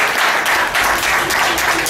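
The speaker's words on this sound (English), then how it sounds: "Please give me another round of applause for our trainers before you wind up." Audience applause for the trainers of a teen group performing traditional Ugandan dances, a steady, dense clapping from a crowd that carries on evenly for the whole stretch.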